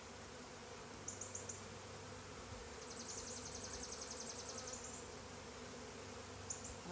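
Honey bees hover around a frame pulled from a split hive during an inspection, giving a faint, steady hum with brief bursts of brighter buzzing, quiet and unaccompanied by talk.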